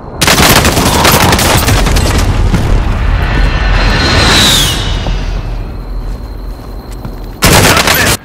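An air strike in a war video game: loud, continuous rolling booms and rapid gunfire blasts, with a whistling streak overhead, then a brief burst of heavy blasts at the end.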